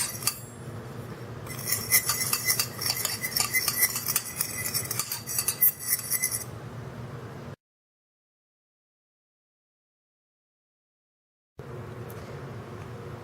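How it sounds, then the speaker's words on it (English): Measured dry spices stirred together in a bowl for coating okra, close metallic scraping and clinking of a spoon for several seconds, then a silent gap and faint background noise. "just mix them up, stir them up so they're all combined"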